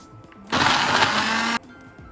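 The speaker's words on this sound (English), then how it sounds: "And then blend" A kitchen blender roars for about a second, whizzing white onion, shallot and lime leaf into a paste for a vegan curry. The loud motor burst starts and stops sharply between quiet moments, with no speech over it.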